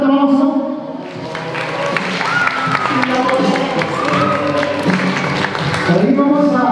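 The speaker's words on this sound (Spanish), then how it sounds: "Déjame un fuerte aplauso." Crowd applause for the godparents at a quinceañera celebration, a steady wash of clapping mixed with voices and music throughout.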